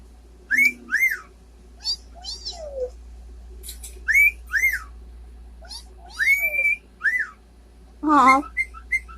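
A lost cockatiel whistles a series of bright, warbling phrases, loud and close, separated by short pauses, with a harsher squawking call near the end.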